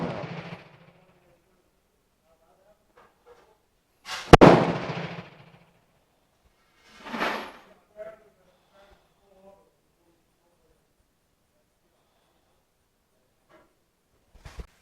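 A Colombian model 1950 Mauser rifle fires on a shooting range, two sharp shots seconds apart with faint distant reports and quiet gaps between.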